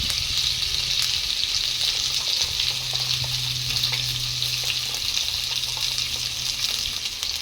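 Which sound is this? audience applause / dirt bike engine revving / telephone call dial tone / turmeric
turmeric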